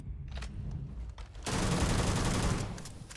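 Rapid gunfire in a video game, bursts of shots that swell into a loud sustained fusillade, close and dominant with no talking.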